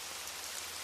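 Steady rain falls evenly on a surface, a dense continuous hiss with no breaks, loud and close throughout with no voices.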